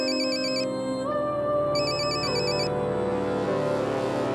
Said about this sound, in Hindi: मेहर जी प्लीज एक बार फोन देखना